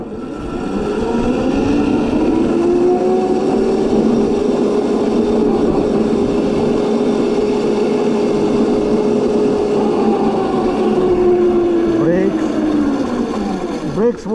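An electric drift kart spins through a 360, its motor giving a loud, steady high whine that rises and falls in pitch as it turns, close and continuous across the whole stretch.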